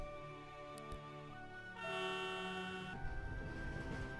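A tram pulls into its destination in a Fate/Grand Order game scene, sustained horn-like tones and rolling rail rumble with a swelling chord midway, fairly quiet with no talking.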